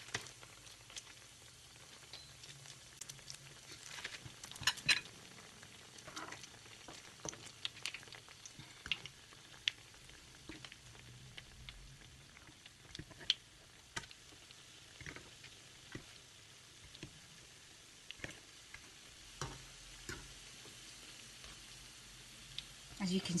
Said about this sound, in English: دابا غادي نقليهم